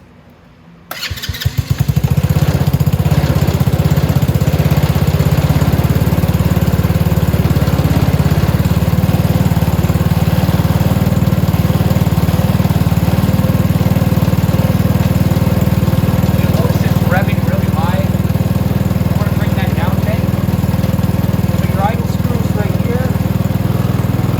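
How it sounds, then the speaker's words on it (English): A 125cc Venom Mini Jeep engine with an upgraded VM22 carburetor cranks and catches, then settles into a steady, loud, buzzing warm idle that runs continuously up close. "Now that this is nice and warm, this engine, I can go ahead and set the idle."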